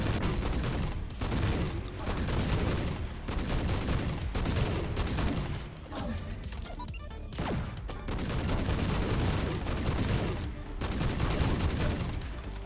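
Rapid, sustained automatic shotgun fire from an AA-12 in the first-person shooter GTTOD: Get To The Orange Door, loud and dense bursts running almost the whole way with only brief dips in between.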